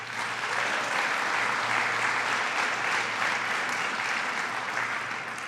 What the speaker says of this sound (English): To Dan and to Jeff and to Todd, let's give them a round of applause